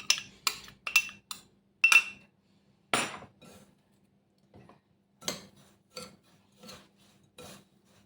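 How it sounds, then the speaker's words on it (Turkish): Butter-enriched dough kneaded by hand with melted butter for a cheesecake base, giving a string of close, sticky squelching and slapping bursts, several rapid ones early, then slower intermittent presses with quiet gaps between. "Şimdi elimde yoğuracağım"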